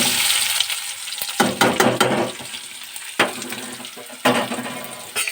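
Onions sizzle in hot mustard oil with cumin in a pan. A continuous loud fry is broken by several sharp scraping bursts from stirring.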